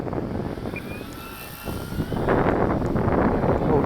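A Carbon-Z Cub SS RC plane, 2.1 m span, passes low on approach, its electric motor hum building from steady and moderate to a louder, rougher roar toward the end, heard outdoors with wind noise.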